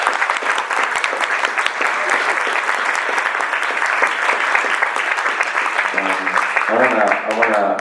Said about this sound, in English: I wonder if we can give them a round of applause.